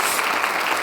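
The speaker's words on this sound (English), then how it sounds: "can we once more have a big round of applause for Elena Višnar Malinovská" Conference audience applause in a plenary hall, a dense wash of clapping sustained through a brief moment, with no voices over it.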